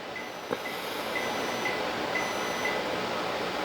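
A home microwave oven gives a series of faint, evenly spaced beeps against a steady background hum, with one brief louder knock near the start and no talking.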